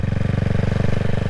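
A CCM Spitfire Six motorcycle engine runs close by with a steady, throbbing low pulse, loud and continuous with no talk over it.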